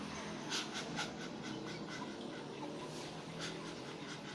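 A dog pants steadily nearby, with a few soft whimpers against a continuous noisy background.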